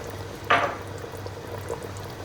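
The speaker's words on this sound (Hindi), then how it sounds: "हमारा बॉयल होना शुरू हो गया।" Water coming to a boil in a pot with cumin, ajwain, black and green cardamom, bay leaf, cinnamon and star anise for chicken palao: one brief bubbling surge, then a low, steady simmer with no talking.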